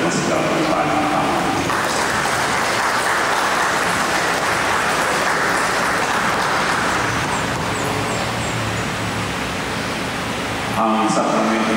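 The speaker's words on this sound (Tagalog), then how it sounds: "Pasalubong natin sila na masigapang palakpak." Loud, sustained applause from wedding guests for the newlywed couple Juanito and Joy, a dense wash of clapping that fills nearly twelve seconds before stopping abruptly near the end.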